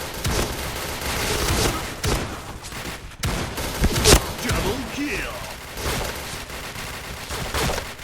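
Shotgun blasts in a Thai police-themed shooting video game, several sharp loud bursts scattered across the clip amid game noise, with someone talking over the action.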